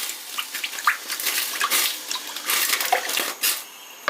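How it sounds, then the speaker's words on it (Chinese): Beans deep-frying in plenty of hot oil in a wok: continuous loud sizzling and crackling hiss with irregular pops, close up and with no talking. "把这个豆子炸一下"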